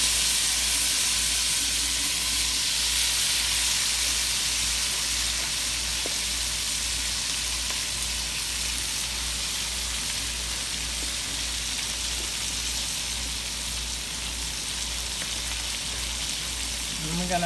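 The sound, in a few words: rinsed cabbage sizzling as it is dropped into butter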